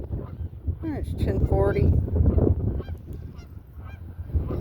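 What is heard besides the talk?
Canada geese honking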